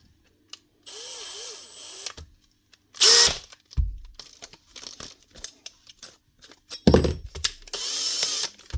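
A Makita DHP484 combi drill, freshly fitted with a new chuck and gearbox, whines at high speed in several short bursts, each start and stop clear and close, with clicks and handling clatter between runs.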